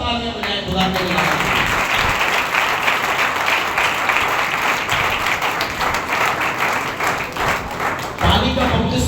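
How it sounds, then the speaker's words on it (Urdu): Congregation at a Sunday church service clapping loudly and continuously for about nine seconds, a dense sustained applause with some thumps, filling the room on its own without speech. "زوردار تالیاں بجائیں خدا کے لیے."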